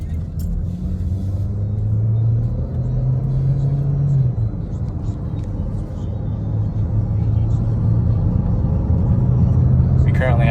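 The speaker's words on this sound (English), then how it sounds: "Taking this on a test drive to verify the purge solenoid has corrected the issue." A 2015 Chevy Cruze on a test drive after a purge solenoid repair, its engine and road rumble droning steadily from inside the cabin, with engine tones rising and falling as it accelerates.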